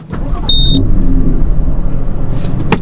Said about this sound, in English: Oh, here's the lorry.